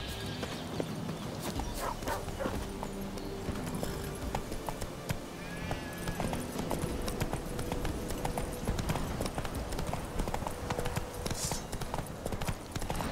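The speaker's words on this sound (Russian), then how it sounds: "О боже, тупая лошадь." Horse hooves clip-clop steadily and close by in The Witcher 3 video game, a continuous rapid trotting rhythm mixed with game ambience, with a brief whinny-like call partway through.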